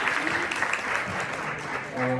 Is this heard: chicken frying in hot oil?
no